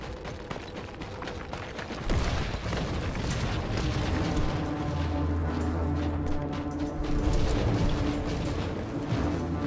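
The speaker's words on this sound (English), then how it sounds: "That grenade." Grenade explosion in Warhammer 40000: Inquisitor - Martyr, a heavy boom followed by a long rumbling roar of blasts and debris over game music.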